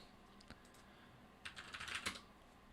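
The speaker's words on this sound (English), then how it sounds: "type out the options that we need" Close, quiet typing on a computer keyboard while entering command options for a Vulnhub penetration-testing exercise: a single tap, then a quick burst of rapid key clicks and a final firm keystroke.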